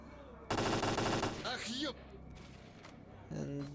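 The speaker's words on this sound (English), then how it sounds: "So this guy will place some shots onto the sniper." NPC in the video game S.T.A.L.K.E.R.: Clear Sky firing at a sniper, a loud rapid automatic burst lasting about a second, followed by quieter scattered noises and a short tonal sound at the end.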